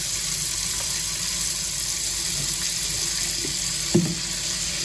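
A kitchen tap runs warm water into a sink to fill it for washing, a steady broadband gush throughout with a small clunk near the end, close and continuous with no voices.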